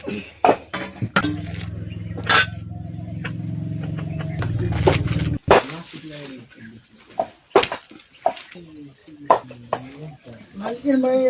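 Dishes clinking and serving sounds as amti dal made from tur dal and bhakri are dished out onto plates in a home kitchen, with sharp knocks and scrapes, a steady hum early on, and frequent talking throughout.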